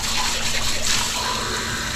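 Water poured into a cooking pot, a steady splashing gush at close range that holds fairly even throughout, alone without talk.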